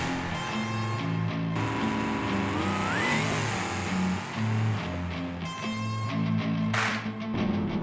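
A Bruckell Moonhawk drag car in the BeamNG racing game accelerates hard down the strip, its engine roaring and climbing through loud revving pulls with brief shifts between them, with no talking.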